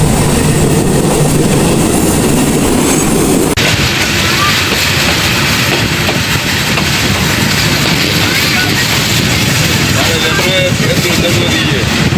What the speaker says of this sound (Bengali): এখানে আমাদের ট্রেনটি পাঁচ মিনিট যাত্রা বিরতি দিবে